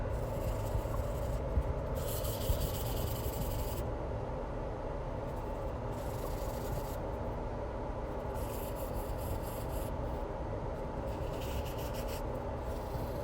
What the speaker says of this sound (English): You want to sand every little side, every little corner, every little piece to make sure it doesn't look scratched.